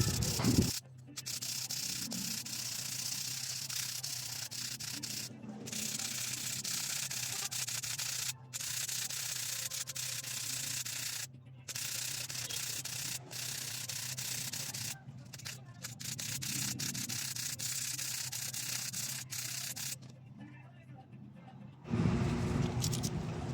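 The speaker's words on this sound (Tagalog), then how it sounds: "gumamit na ako ng medyo manipis na sandpaper para kuminis yung bato" Fine sandpaper rubs a stone for a handmade size 9 ring, giving a steady, soft, close scratchy rasp that runs almost without a break, with a few brief pauses.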